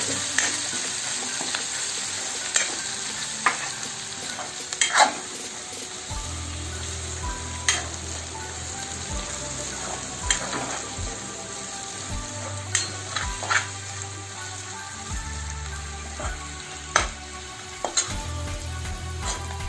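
Coriander and cumin spices frying in a pan for a pointed gourd curry, stirred now and then: a soft continuous sizzle broken by intermittent scraping and tapping of the spoon against the pan.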